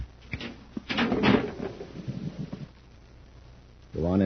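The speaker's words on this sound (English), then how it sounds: "There's a concealed door here." A concealed door opens in an old Space Patrol radio drama, a scraping, rumbling slide that swells and fades over a couple of seconds before a voice comes in at the end.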